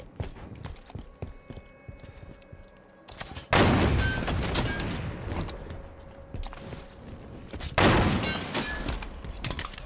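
Two loud, booming rocket launcher blasts in Halo 5 multiplayer, the first about three and a half seconds in and the second near the eight-second mark, each with a sustained rumbling tail, between quieter stretches of gunfire and footsteps.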